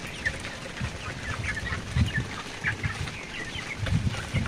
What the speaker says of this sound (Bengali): তো মুরগিগুলোরে আদার পানি দেওয়া হইতেছে, তো খাবার দিতেছে মুরগিদিকে